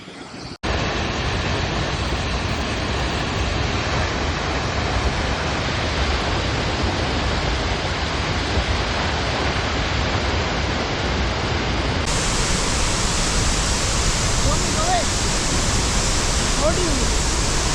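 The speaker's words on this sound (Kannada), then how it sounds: "ಜಲಪಾತ ನೆಕ್ಸ್ಟ್ ಲೆವೆಲ್ ಇದೆ ಎರಡು ಜಲಪಾತಗಳು" Twin waterfalls in dense forest in Cameroon roar as a loud, unbroken wash of falling water, close and overwhelming from start to end after a brief quieter opening.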